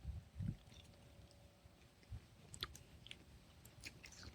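Crunchy freeze-dried candy being chewed up close, with a few soft crunching bites and mouth sounds at a slow, irregular pace, quiet and alone without talking.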